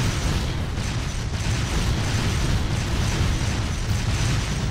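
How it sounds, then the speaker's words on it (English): Tank cannon blasts and a covering barrage in the Trails of Cold Steel 2 battle, a dense, continuous roar of explosions and mechanical rattling, loud and sustained throughout with no pauses. "To be dodging those tank blasts"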